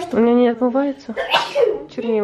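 A single sharp sneeze bursts out in the middle of a family conversation, close and fairly loud, with children and an adult talking before and after it.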